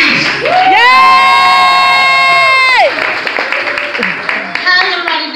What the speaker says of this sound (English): give a warm, big welcome, and a applause for Elyse